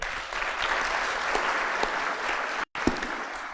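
An audience at a medical symposium claps in thanks, sustained dense applause at fairly loud level that cuts off sharply for a moment near the end, then resumes briefly.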